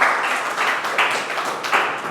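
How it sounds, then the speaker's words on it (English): Applause rises and falls in waves as a Toastmasters club audience claps for Toastmaster Rajesh Paligiri after a humorous speech, moderately loud and unbroken, with no one speaking. "Give him a big round of applause"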